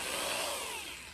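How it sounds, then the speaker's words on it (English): A power drill spins a hole saw through its adapter during work on an air-to-water intercooler for a turbo Mustang, a brief steady whirring burst at close range with no talk over it. "So I've been using for my hole saw, my drill adapter."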